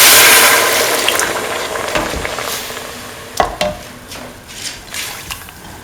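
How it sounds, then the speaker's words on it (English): Coconut poured into a pot for a sweet beaten rice, banana and dates soup, giving a soft wet hiss that fades, then a few light liquid splashes and clinks close by. "Pour in the coconut."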